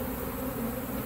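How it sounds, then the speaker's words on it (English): Honeybees fanning around a queen pheromone during a hive removal from a mobile home produce a steady, dense buzzing hum that stays even and close throughout. "with the help of the queen pheromone and these bees fanning"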